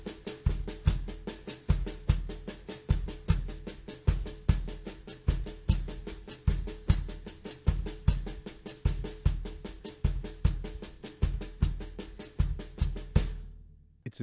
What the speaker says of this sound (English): Now I'm going to play the pattern shifted into 6/8.